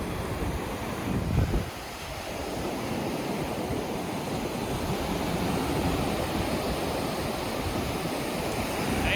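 Ocean surf breaks steadily on a Myrtle Beach shoreline during beach fishing, a continuous broad wash of waves mixed with wind buffeting the microphone, with one louder gust near the start.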